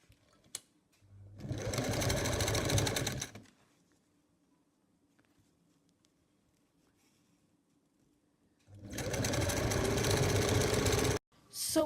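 A sewing machine stitches the folded wrist ends of a jacket in two loud, steady bursts of about two and four seconds, separated by a quiet pause with faint background hum.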